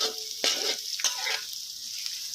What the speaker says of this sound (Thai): เจียวพร้อมกระเทียมไปเลยนะครับ